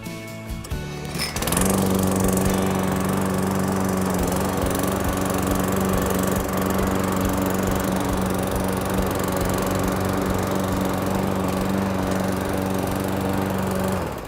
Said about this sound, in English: Great little mower, ideal for small to medium sized lawns